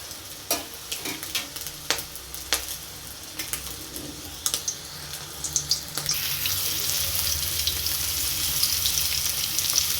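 Boiled eggs and potatoes, rubbed with salt and turmeric, fry crisply in hot oil, giving a steady loud sizzle with occasional sharp utensil clicks and scrapes, with no talking.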